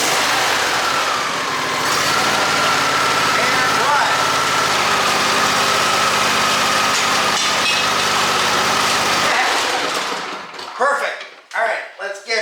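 A Craftsman 917 lawn tractor engine runs at a steady, loud idle close by for about ten seconds, then cuts out, leaving brief voices and handling sounds.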